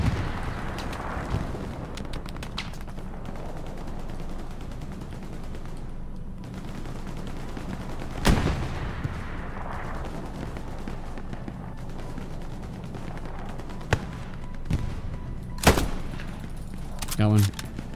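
Rifle shots from the video game Hell Let Loose on Omaha Beach: sharp sniper cracks at intervals, with distant gunfire and battle noise rumbling between them, under quiet talk.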